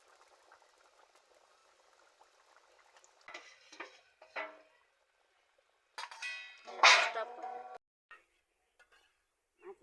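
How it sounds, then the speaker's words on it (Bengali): Fried fish going into a simmering drumstick fish curry in a village kitchen, heard as a quiet bubbling simmer, then wet plops, sizzles and scraping stirs of a utensil against the pot, close by with no talk. "আর ভেজে রাখা মাছগুলো আমি দিয়ে দিচ্ছি।"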